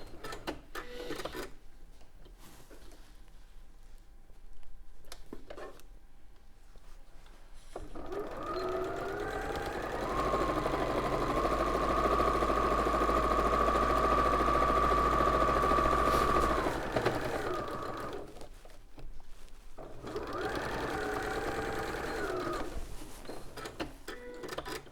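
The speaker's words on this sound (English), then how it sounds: "It was me sewing the casement for the ribbon to go in to pull the drawstring." A sewing machine stitches a fabric casing for a drawstring ribbon on a bag, running in a steady, sustained whir that rises in pitch mid-clip, with quieter stops and starts around it and faint talk nearby.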